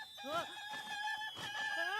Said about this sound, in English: There are some cuckoos over here.